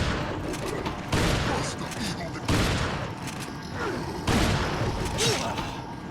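Gunfire in Resident Evil 4 fires as three loud, sharp blasts spaced a second or more apart, each trailing off into a noisy rumble.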